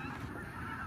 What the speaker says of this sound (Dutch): Het hoge geluid is kenmerkend van koolganzen.